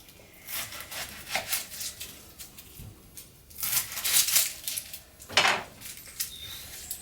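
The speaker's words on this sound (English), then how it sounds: "Annie's going to show you how she chops an onion" A knife cuts through an onion at home, producing irregular scraping and soft thuds against a board. The sounds come close and fairly quiet, with busier bursts midway and near the end.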